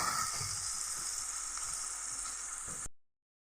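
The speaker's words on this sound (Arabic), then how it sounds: "وبعد ما الجمبري خد صدمه معايا كده في الزبده والثوم" Shrimp sauté in butter and garlic with a steady, hissing sizzle that cuts off abruptly after about three seconds.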